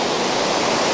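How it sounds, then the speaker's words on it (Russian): A mountain stream in Abkhazia flows below a bridge with a loud, steady, close rush of water and no talk over it. "это ручей внизу"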